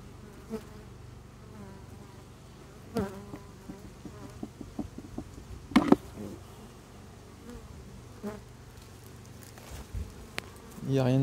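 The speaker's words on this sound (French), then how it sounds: "Attention l'abeille." Bees buzz faintly around a hive beside a buckwheat field, a low insect hum with scattered clicks and taps, ending in a louder close buzz.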